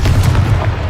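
Confringo fire spell exploding in the video game Hogwarts Legacy, a loud, deep rumbling boom that rolls on heavily through the whole moment with no talk.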